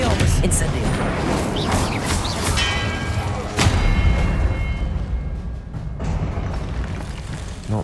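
Spell blasts in Hogwarts Legacy, loud booming impacts and thuds in quick succession over dense game noise, with a voice speaking amid the explosions.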